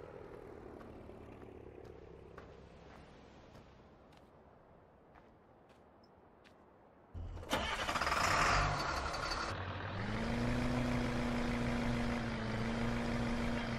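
Engine of a small Ford tractor in Farming Simulator 2015, a low idling rumble that suddenly becomes much louder and fuller as it revs up, then holds a steady drone.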